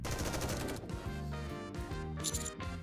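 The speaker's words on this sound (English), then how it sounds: "Gunshots." Rapid gunfire in the Nikke video game rattles in quick bursts over a busy music-and-effects mix, fairly loud and continuous, with no voices.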